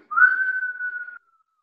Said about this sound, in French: Et la prochaine inspire en sifflant